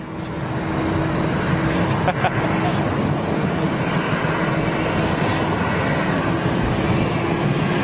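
Airbus A330 jet moving at Schiphol airport, a steady broadband engine roar that holds evenly across the whole stretch with a faint tonal hum, distant wind-like noise and a brief soft knock partway through.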